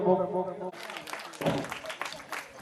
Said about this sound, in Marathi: सर्वांनी त्यांचं टाळ्या वाजवून स्वागत करायचं आहे